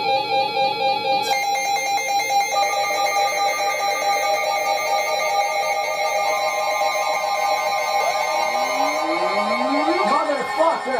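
Sustained EAS emergency alert tone, a harsh steady electronic beep with layered pitches running continuously; near the end the pitch shifts and sweeping, warbling tones come in.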